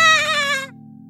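Two cartoon goats bleat in a children's fairy-tale story, a loud, bright, wavering animated bleat lasting well over half a second before it cuts off, leaving a low steady hum.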